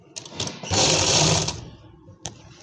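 A sewing machine runs in one steady burst of rapid stitching as cotton lace is attached to a palazzo, close and fairly loud, with short machine clicks before and after.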